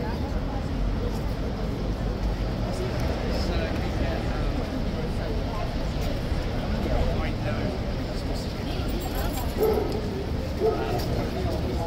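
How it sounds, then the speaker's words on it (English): A large dog barks at Horse Guards in London amid a busy tourist crowd, the barks mixed into steady background chatter and street noise throughout. "Someone decided it would be a good idea to bring a large barking dog to horse guards"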